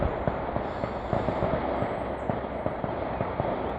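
Gunshots from an open-air police firing range in Highland Park pop steadily in quick, irregular succession, heard at a distance over a constant outdoor background hum.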